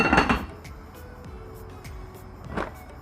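A lid goes onto a pot of Shin Ramyun noodles with egg: a close metallic clank, a quiet stretch of low simmering, then a second clatter as the lid settles.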